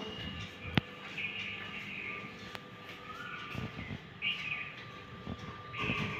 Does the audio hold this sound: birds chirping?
yes